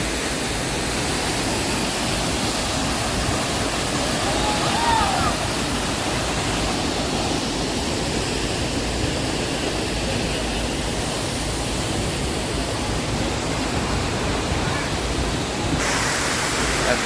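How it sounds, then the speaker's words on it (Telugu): Soochipara waterfall in Wayanad roars in a constant broad rush of falling water, loud and unbroken throughout, with some faint voices mixed in. "చాలా అందమైన వాటర్ ఫాల్"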